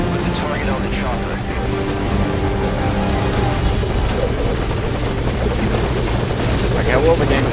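A helicopter in the PC version of Metal Gear Solid V: Ground Zeroes gives off a loud, steady rotor thrum and engine whine throughout. Someone talks over it.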